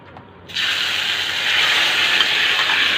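An okra dish simmers in a pot, setting off a sudden loud, steady bubbling hiss that starts abruptly after a brief quiet moment and carries on evenly to the end.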